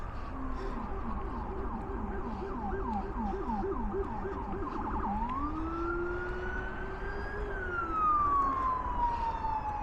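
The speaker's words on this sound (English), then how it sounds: "It seems like every one of my walks, man, we have fire trucks, ambulances." Emergency vehicle sirens, fire truck and ambulance, wail along a Brooklyn street in Sheepshead Bay, first a fast yelping pattern and then a long rising and falling wail, fairly loud over steady city background.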